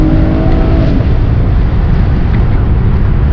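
A sixth-generation Chevrolet Camaro engine revs hard in second gear, loud and close, a steady roaring drone throughout with a rising tone early that settles into a sustained high-rpm growl.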